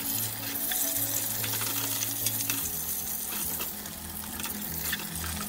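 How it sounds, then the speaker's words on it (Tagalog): Lapu-lapu fish frying in a small amount of hot oil gives a steady, close sizzle with occasional crackles and soft stirring scrapes throughout. "piprito na natin yung isda. Galaw-galawin lang natin siya para wag siya dumikit"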